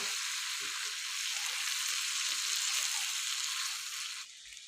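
Chicken tawa boti sizzling loudly in masala on a hot tawa, a steady bright frying hiss with soft stirring knocks, ending abruptly near the close.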